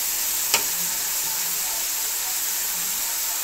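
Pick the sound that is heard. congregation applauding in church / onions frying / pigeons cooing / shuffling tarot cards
onions frying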